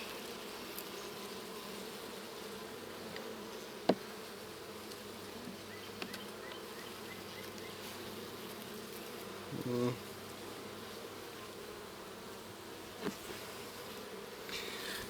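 A steady drone of honey bees buzzing throughout a honey harvest, with a few brief knocks and clicks breaking through near the middle.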